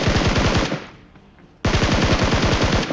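Automatic gunfire in a video game: two long, loud, rapid bursts of machine-gun shots, the first fading out before a short pause and the second starting abruptly, close and without talk.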